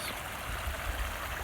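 Manskers Creek flowing in a steady, quiet babble of running water, close and continuous with faint low gurgles and no voices.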